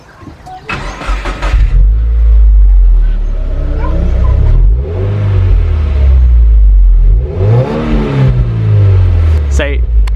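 A Subaru WRX with its stock exhaust starts and revs several times, deep engine rumble rising and falling in pulls, close and loud, with people talking over it.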